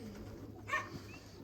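Faint, brief coo from a young pigeon squeaker inside a loft, a single soft call over quiet background hum.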